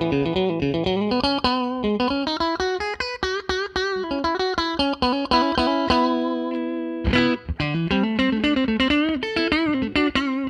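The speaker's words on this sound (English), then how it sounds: "So anyway, here's a clean sound." Clean electric guitar tone from a Strat-style guitar through a Line 6 M13 effects unit, bridge pickup, played as a continuous run of picked notes and chords, loud and close, with a brief pause near the middle.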